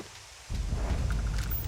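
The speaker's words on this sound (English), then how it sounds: "And it sounds like it's raining." Rain in the video game Starfield begins abruptly and continues as a steady, dense patter and hiss with a low rumble beneath, with no voices.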